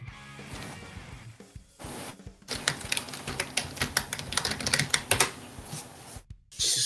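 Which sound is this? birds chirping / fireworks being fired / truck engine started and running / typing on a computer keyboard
typing on a computer keyboard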